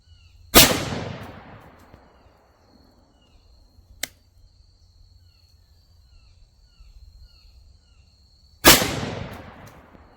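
Rifle fired through a Bear Creek 20-inch target barrel: two loud, sharp shots about eight seconds apart, each with a decaying echo tail, plus a fainter click between them, outdoors amid insect chirping.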